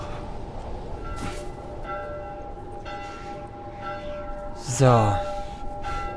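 Church bells ring in The Last of Us game world, a steady tolling tone running through ambient noise while someone speaks briefly and a louder low thump breaks in near the end.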